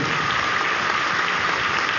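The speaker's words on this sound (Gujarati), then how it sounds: "એ બધાને તાળીઓથી વધાવી આપણે" Steady crowd applause fills a devotional gathering at a BAPS religious discourse as devotees who walked in from nearby neighbourhoods are welcomed, continuous and dense clapping throughout with no talk over it.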